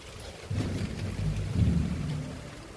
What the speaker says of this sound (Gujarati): વરસાદ ધીમે ધીમે જે વરસાદ ચાલુ છે